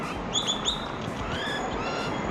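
Birds fighting, with a few short, sharp chirps and squeaks rising above steady, noisy background rumble.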